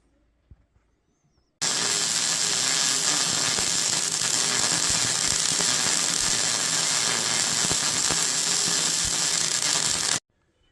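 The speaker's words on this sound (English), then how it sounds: "So now we just need to weld all this up. For this project, we're going to use our Captain MIG welder here." A Captain MIG welder lays a bead on a steel deer feeder frame, a loud, steady crackling buzz that starts abruptly after quiet, runs about eight seconds, then cuts off.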